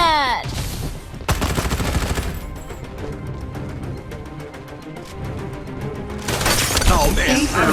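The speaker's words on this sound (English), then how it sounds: "Time for some artillery." Heavy gunfire and explosive artillery blasts sound in the video game Farlight 84, with rapid repeated shots between louder shattering impacts at the start and end, and game voice lines come through faintly.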